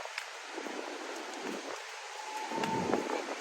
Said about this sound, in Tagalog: sarap ang simoy ng hangin